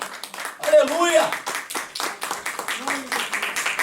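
Church congregation clapping during worship, a brief burst of hand claps under a preacher's voice and other voices speaking and calling out.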